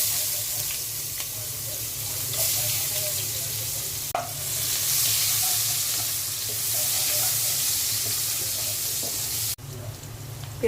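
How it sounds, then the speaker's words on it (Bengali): Sliced onions sizzle in oil left over from frying fish, a loud, continuous crackling hiss with stirring scrapes and a sharp knock partway through. "মাছ ভাজা তেলের মধ্যে আমি পেঁয়াজ দিয়ে দিচ্ছি।"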